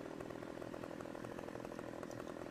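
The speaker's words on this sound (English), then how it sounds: "What we're gonna do now is we've got our chainsaw out." Chainsaw in Farming Simulator 2015 runs as a steady, buzzing drone that holds at one level for the whole stretch, with no talk over it.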